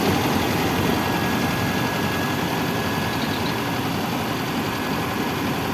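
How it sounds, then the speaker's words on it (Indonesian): Diesel engine idling steadily after Dexlite fuel has been added, a loud, constant close-up rumble with even mechanical clatter and no change in pace. "saya biarkan idle dulu"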